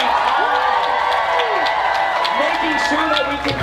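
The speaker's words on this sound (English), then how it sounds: "can we please give a huge round of applause to the NYPD" A crowd claps, cheers and whoops in a loud, continuous burst of applause for the NYPD at a Ham4Ham watch party, with voices shouting within the roar.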